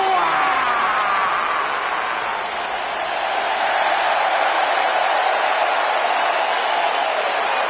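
A crowd in the WWE 2K19 wrestling video game, SmackDown in universe mode, fills the arena with steady, dense applause and cheering that holds loud throughout with no break.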